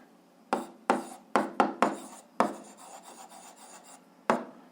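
Pen strokes while writing out an algebra solution, about eight short scratchy bursts, close up and fairly loud, each stroke followed by a softer continuous rasp. No one speaks.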